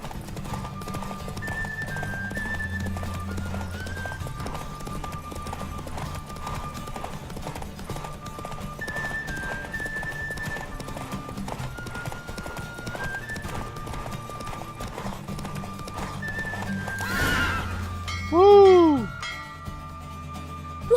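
A horse gallops in a race in The Witcher 3, with steady rapid clip-clop hoofbeats under game music, ending in a loud neigh and whinny near the finish.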